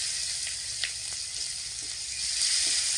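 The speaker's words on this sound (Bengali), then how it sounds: "এখন আমি কিছু কুচিয়ে রাখা পেঁয়াজ দিয়ে দিচ্ছি।" Chopped onions go into hot oil already fragrant with panch phoron and dried red chilli, producing a steady, moderately loud sizzle with a few light crackles that swells slightly toward the end.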